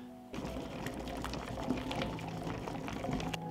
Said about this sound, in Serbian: od momenta kada voda proključa, smanjite temperaturu, pustite da voda samo struji